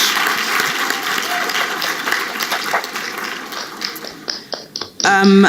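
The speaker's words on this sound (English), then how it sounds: "A warm round of applause to the panelists, please." A conference audience at an Africa Braintrust session applauds the panelists, a broad, steady clapping that gradually thins into scattered claps before a voice returns at the close.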